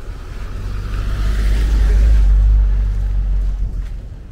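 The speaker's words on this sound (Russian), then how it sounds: "поэтому столько машин" City street traffic beside a large auto service station on a busy street, a heavy low rumble of a vehicle swelling as it passes close by, then fading, over steady background road noise.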